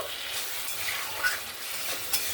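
Ginger and cumin paste fries with vegetables in a pan, a steady close sizzle with a couple of brief scraping stirs over about two seconds.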